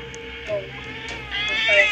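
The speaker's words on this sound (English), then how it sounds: "there's a cat!" A cat gives a couple of drawn-out, whiny meows close by, with a higher caterwauling call near the end, over a steady background hum.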